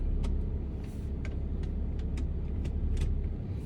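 A hand-control adapted car for a disabled driver starts and idles with a low, steady engine rumble. A few light clicks sound over it, and no one talks.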